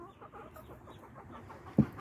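Broody hens and a rooster cluck softly and steadily inside a coop, a low murmur of several birds, ending in a sudden louder squawk or bump near the close.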